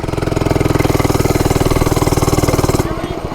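A cheap mini bike's small engine runs close and loud with a steady rapid chattering putter, then cuts off abruptly near the end.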